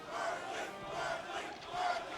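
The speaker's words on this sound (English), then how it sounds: "Maybe you can hear them chanting" A college crowd at a Super Smash Bros. Melee team tournament chants in rising and falling waves, a dense mass of voices filling the hall at moderate distance without any single speaker standing out.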